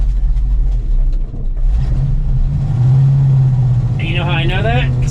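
An old Ford grain truck engine cold-starting and rumbling loud and close, a steady low drone with a rising rev near the end while someone talks over it.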